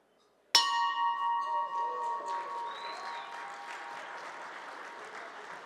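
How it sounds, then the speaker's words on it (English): The Rotary Club of Houston bell is struck once at a formal awards event, a sharp close strike followed by a long ringing decay that fades over several seconds while the room murmurs quietly. "I will ring the bell of the Rotary Club of Houston to officially kick off this evening's festivities."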